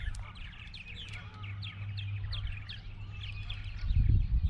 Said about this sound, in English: There's so many birds and geese and